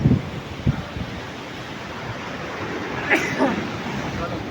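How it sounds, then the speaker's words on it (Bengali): Strong sea waves crash onto the shore at Fraserganj on the Bengal coast, a steady roaring surf wash with gusty wind buffeting the microphone and a louder surge near the end. "কি ঢেউয়ের তাণ্ডব রে বাবা, ভীষণ রকমের"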